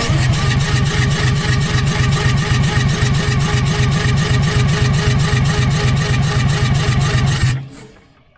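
An old dump truck's diesel engine being started with ether sprayed into the blower runs loud and steady with a rapid pulsing beat, then cuts off abruptly near the end.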